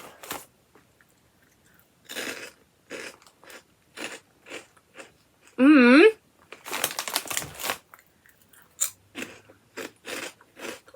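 Crisp crunches and chewing of a Korean prawn-flavoured snack, up close and repeated in irregular bursts, with a short high vocal squeal partway through.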